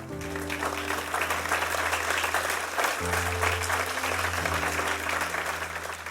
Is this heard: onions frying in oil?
no